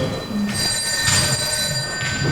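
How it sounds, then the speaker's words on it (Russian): A telephone ringing in a chess school on Malozavodskaya Street, a steady, loud electronic ring with bright sustained tones that repeat in bursts over a constant background rumble. "Кто-то кому-то звонит."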